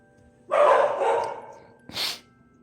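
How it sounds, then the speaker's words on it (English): Country dogs barking, with one drawn-out, rough bark or howl followed by a short sharper yelp, fairly close and alone against quiet outdoor background. "But they're country dogs. They like to bark at anything they hear."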